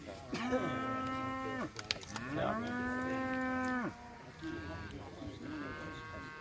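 Cattle in a pasture cow herd let out several long, loud moos one after another, fairly close, with short gaps and quieter lowing between them.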